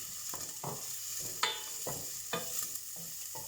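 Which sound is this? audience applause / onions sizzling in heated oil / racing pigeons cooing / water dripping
onions sizzling in heated oil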